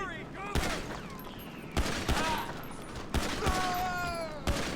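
Pistol shots fired blind in the video game GTA 5 ring out as sharp, loud cracks in irregular bursts, several spaced a second or so apart, over a layer of game sound and scattered high tones.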